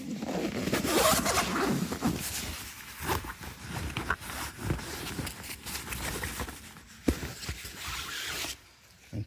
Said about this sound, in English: You got to undo this whole zipper.